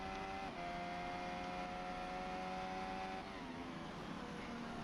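A Formula 1 car on an onboard qualifying lap at the 2023 Brazilian Grand Prix, driven by Albon, gives a steady, loud high-pitched engine drone with shifting tones as it changes gear through the corners, no talking.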